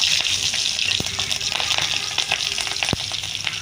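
Slit green chillies sizzling in hot oil in a pan for a Bengali mustard fish curry, a steady close frying hiss with a few sharp crackles and pops, no talk.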